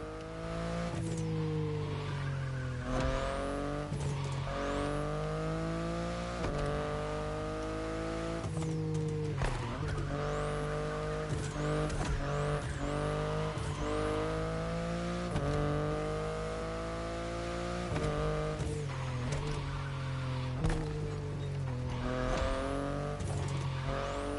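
A BMW i8 sports car drives hard in The Crew Motorfest, its engine note climbing and dropping through repeated gear changes, loud and steady throughout with occasional tire noise.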